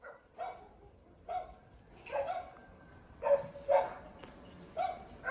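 Dogs at a shelter, a German shepherd among them, bark in a series of sharp, separate bursts with short gaps, fairly close and loud, with no talking over them.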